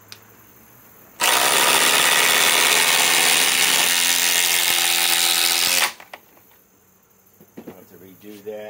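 A Milwaukee M18 Fuel Gen 4 impact driver running on a 6 amp XC battery, one loud, continuous burst of about five seconds with a rapid hammering rattle, followed by quieter handling noises.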